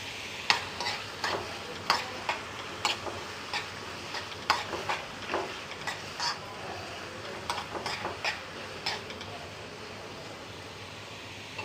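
Chinese potato (koorka) frying in coconut oil with mustard seeds, a steady sizzle under regular scraping stir strokes of a spatula against the pan, close and fairly loud.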